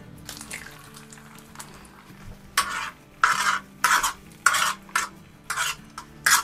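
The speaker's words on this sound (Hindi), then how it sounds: "अंडों को हिला के फ्राई करना है इस तरह" Two eggs frying in oil on a hot griddle are stirred with a utensil, giving bursts of scraping and sizzling clatter in a rhythmic series over a low steady hum, with no talk.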